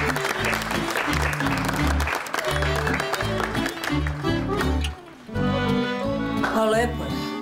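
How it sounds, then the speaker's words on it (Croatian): Studio applause on a TV game show set, steady clapping under strong music with a brief dip midway, then rising again. "Aplauz bre, ajde."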